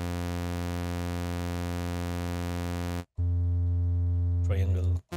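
A bright, buzzy analog-style sawtooth oscillator from Output's Signal synth drones steadily, drops out briefly, then returns at a lower pitch, with a short bit of voice over it near the end.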